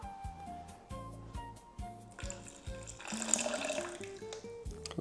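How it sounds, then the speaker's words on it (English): Lemon juice is poured into a blender with a soft trickling, splashing stream that swells midway, while faint, rhythmic low thumps tap along beneath it. "I'm just gonna pour all this lemon juice in here."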